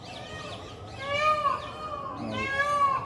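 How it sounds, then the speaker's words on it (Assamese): A peacock at Guwahati zoo gives repeated loud, wailing, meow-like cries in a series of rising calls, fairly close, over a low murmur of background noise. "এইটো ময়ূৰৰ মাত দেখিছে"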